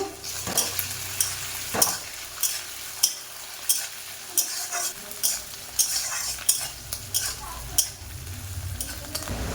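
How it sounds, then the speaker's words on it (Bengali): Prawns frying in a pan for a raw banana, taro and eggplant dish, with a steady sizzle under repeated scraping stirs of a spatula in an uneven rhythm; no one speaks. "চিংড়ি মাছ দিয়ে এটাকেও কিছুক্ষণ ভেজে নেব"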